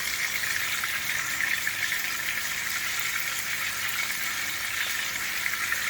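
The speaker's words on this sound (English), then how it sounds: "while the chips that are really frying" Chips fry in hot oil with a steady, bright sizzle and bubbling hiss that holds evenly throughout, close and fairly loud, with no talk.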